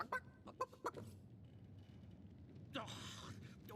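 A chicken clucks in a video game, several quick close clucks at the start, followed by a voice speaking.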